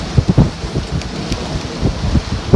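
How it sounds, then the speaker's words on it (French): Strong gusting wind at sea between two Greek islands, where the wind accelerates through the gap, buffets the microphone of a sailing boat in heavy low thumps and rushes, close and loud, with no talking. "le vent s'accélère"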